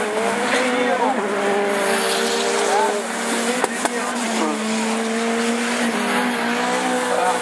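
Division 4 rallycross race cars at Lessay, engines roaring and shifting pitch continuously with tire squeal, loud and close, under an excited commentator talking throughout.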